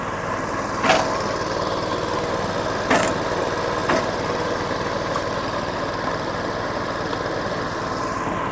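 A 7 hp petrol engine driving an inverter generator that powers a winch on a log splitter, running at a steady loud drone with a low rhythmic pulse and a few brief knocks, no voices.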